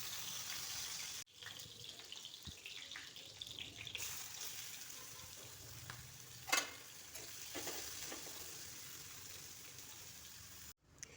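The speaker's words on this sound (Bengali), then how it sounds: "তাতে সামান্য তেল দিয়ে আমি পেঁয়াজ কুচিগুলো দিয়ে দেব।" Chopped onions frying in a little oil for a prawn dish give a steady, close sizzle with soft stirring scrapes and a brief louder clatter midway; no one speaks.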